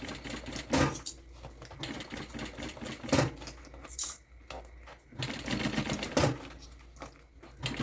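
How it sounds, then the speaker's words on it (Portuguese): A domestic sewing machine stitches fabric for a fanny pack, giving a fast mechanical clatter that starts and stops in uneven runs, close by with some handling noise and no talk. "essa aqui pra você costurar na máquina doméstica"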